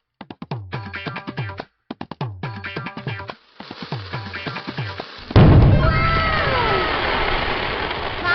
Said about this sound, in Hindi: अब देखो मेरा स्काई शॉट।